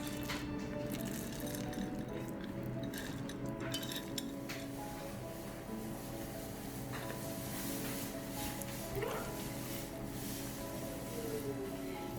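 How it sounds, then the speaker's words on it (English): Chocolate chip cookie dough is kneaded by hand, giving soft squishy presses and occasional light clinks of a bowl or utensil, close and steady with no speech. "You knead until you get this texture."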